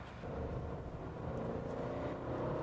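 Inside a 2021 Subaru Crosstrek Sport with the 2.5-liter engine, climbing a hill at light throttle: a steady low engine and road hum, even and unhurried, with no voices.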